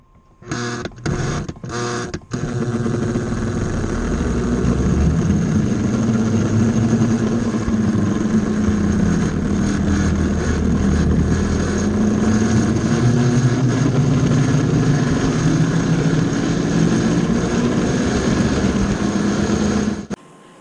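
A Lionel postwar diesel model train engine runs with a steady, loud motor whir and droning hum lasting about eighteen seconds, after a few sharp clicks at the start.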